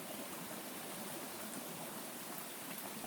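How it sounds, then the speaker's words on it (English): A creek runs steadily outdoors, its broadband rushing water wash holding even and fairly quiet throughout, with no voices. "Just sitting here next to the creek, if you can hear that."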